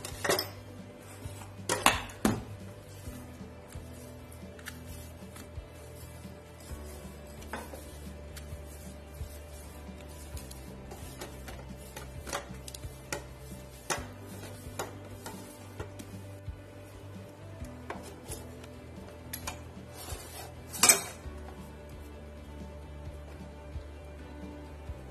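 Greased metal bread tins for whole wheat atta bread knock and clatter at close range, with a few sharp clinks standing out among low kitchen handling noise, and no talking.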